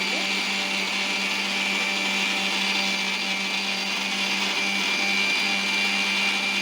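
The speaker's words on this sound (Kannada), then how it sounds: "ಇವನ್ನೆಲ್ಲ ಮಿಕ್ಸಿ ಪಾತ್ರೆಗೆ ಹಾಕಿ ರುಬ್ಬಬೇಕು" An electric mixer grinder whirs steadily as it grinds huli soppu greens for tambuli, a loud, even motor whine that runs for the whole stretch with no break.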